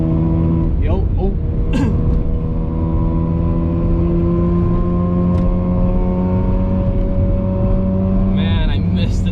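Rebuilt Mazda RX-8 driving hard through a corner, its engine note loud and steady with rising and falling harmonic tones throughout, while people talk over it inside the car.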